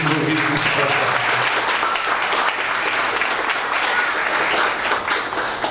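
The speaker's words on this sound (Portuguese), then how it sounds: "E aqui eu solicito uma salva de palmas a todos os professores envolvidos nesse processo" An audience at a university directorate inauguration ceremony applauds the professors, with dense, steady clapping that fills the room throughout.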